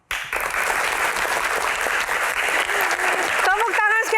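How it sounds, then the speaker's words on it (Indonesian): Studio audience applause on an Indonesian TV news talk show, a dense, loud wash of clapping starting abruptly and continuing throughout, with a voice and music tones entering near the end. "Tepuk tangan sekali lagi Bapak Suharyanto."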